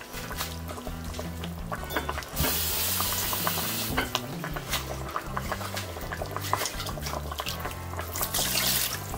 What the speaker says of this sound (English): I'm going to add in here 1 cup of water